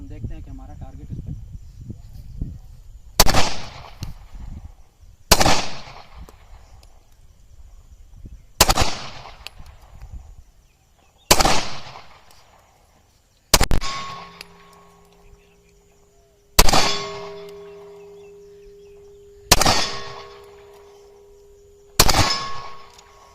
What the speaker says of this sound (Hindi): तो मैंने ये चंद राउंड इसमें अभी जोल के 9 मिलीमीटर के लोड किए हैं, पहली दफ़ा फायर कर रहा हूँ